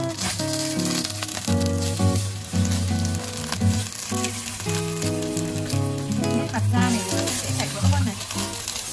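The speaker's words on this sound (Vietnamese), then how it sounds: "Mọi người áp chảo gà cho nó giòn giòn ở hai mặt nha." Chicken pan-fries in a hot pan, browning crisp on both sides, with a loud, continuous sizzle and crackle that carries on throughout while music plays over it.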